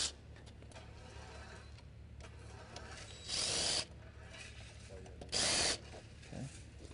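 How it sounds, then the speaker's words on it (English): A power driver whirs in two short bursts while backing screws out of panic bar hardware on a door, close-up over a low steady room hum, with faint clicks between runs. "I'm going to remove the screws all the way."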